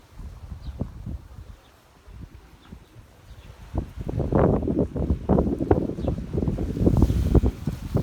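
Wind gusts over a hotel rooftop in Odesa, blustering against the microphone in uneven buffets that start fairly quiet, then swell into a louder, sustained rush for the last few seconds.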